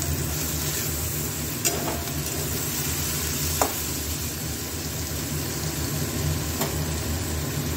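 Omelette manchurian stirred in a pan before sauce goes in, a dense steady sizzle with a few faint spatula taps against the pan, close by.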